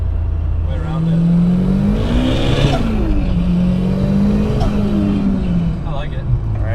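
A 600-horsepower Nissan S15 with a VVL SR22 engine revs while driving, its tone rising and falling through gear changes in a loud, close, smooth drone, with people talking over it.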